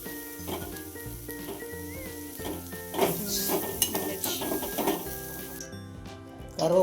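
Oil sizzles steadily as curry leaves fry in a pan, with stirring clatter and background music throughout.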